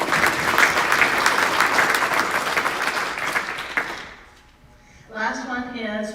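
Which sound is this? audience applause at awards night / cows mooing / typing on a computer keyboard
audience applause at awards night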